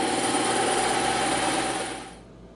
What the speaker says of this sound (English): But since we have a bandsaw, we're making our life easier.